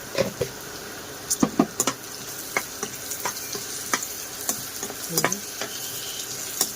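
Chopped onion sizzling steadily in a pan after a pinch of salt, with a soft continuous crackle and scattered sharp clicks of a spatula stirring, close and moderately loud.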